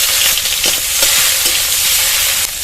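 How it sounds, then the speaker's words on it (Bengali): Chopped onion and five-spice seeds sizzle loudly in hot oil in a pan, a dense continuous frying hiss broken by repeated scraping stirs, with no voices. "দিয়ে দেবো 5 ফোড়ন আর পেঁয়াজ কুচি"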